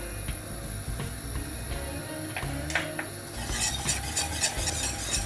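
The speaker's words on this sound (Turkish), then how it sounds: "Şöyle bir karıştıralım." Ground meat seasoned with salt and pepper stirred in a pan, a steady sizzle under scraping utensil strokes that grow busier and brighter toward the end, close and fairly loud, with no voices.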